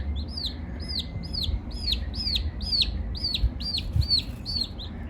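Five chickens in their coop call in a steady run of high, repeated chirping notes, roughly two per second, over a low rumbling background.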